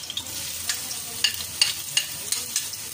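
Garlic and ginger sizzle in hot oil with a soft, steady frying hiss, punctuated by light clinks and stirring taps from a utensil against the pan at close range, with no speech.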